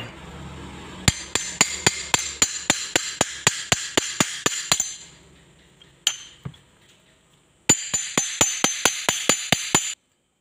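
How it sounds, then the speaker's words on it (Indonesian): A hammer strikes metal parts of a DC 775 motor to drive them into place: a rapid series of sharp, ringing blows, a short pause with one or two isolated hits, then another quick run of strikes. "Nah, sekarang tinggal kita pukul menggunakan palu."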